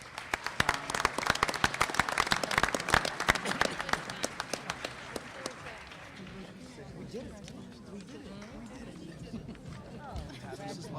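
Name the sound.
audience applause at a school committee meeting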